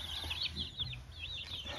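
Chickens cluck and chirp in quick, high calls on a small home poultry setup, fairly faint with a low background hum.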